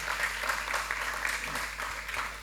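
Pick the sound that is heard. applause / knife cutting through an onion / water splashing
applause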